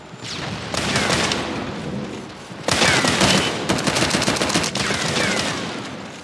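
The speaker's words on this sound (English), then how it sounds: "Grenade out." Rapid automatic gunfire and booming blasts from a grenade in the shooter game Shadowgun War Games, loud and continuous with dense bursts of rounds and no talking.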